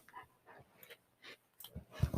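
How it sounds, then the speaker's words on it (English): A large 95-pound dog breathes heavily right against the microphone, giving a few short, close huffs and pants in uneven bursts that grow louder toward the end. "I am wrestling my 95-pound dog onto my lap to get him to not breathe into the mic"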